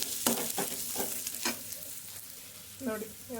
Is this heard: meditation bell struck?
no